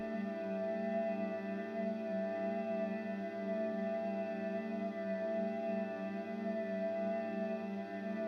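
A steady, sustained ambient guitar loop through an effects pedal, with shimmering echoes and a gentle pulsing texture, hovering quietly without pauses or voices.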